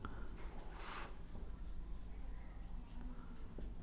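Pen or marker writing out a trigonometry solution, a steady scratchy scrawl with a brief louder burst of strokes, close and quiet over a constant low room hum.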